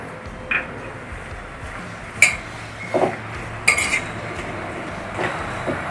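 Chole (chickpeas) being mixed with black salt, plain salt and spices, giving a few sparse, faint spoon clinks against a bowl over a quiet background.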